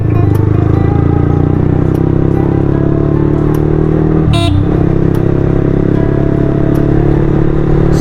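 A motorcycle fitted with a newly installed aftermarket exhaust that has cost it power idles with a loud, steady, deep rumble, with a brief dip in the drone about halfway through.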